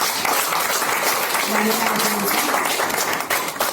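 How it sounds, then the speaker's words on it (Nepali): A church congregation claps loudly during a worship service, a dense, steady roar of applause lasting several seconds, with a voice speaking over it. "परमेश्वरलाई हामी जोरदार ताली बजाएर स्वागत गर्छौं"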